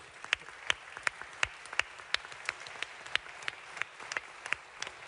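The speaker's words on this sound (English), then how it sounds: "a very well-deserved round of applause" Sparse, scattered clapping from a small number of people at a London Climate Week event, individual claps distinct and fairly faint, spread unevenly across the whole stretch.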